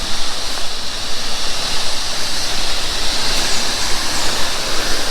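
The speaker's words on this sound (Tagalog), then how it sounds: "Uy, falls again." Seven Terraces Falls in Sultan Kudarat, Maguindanao: a loud, continuous roar of rushing, splashing water, close by and unbroken, with no talk.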